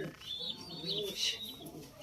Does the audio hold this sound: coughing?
no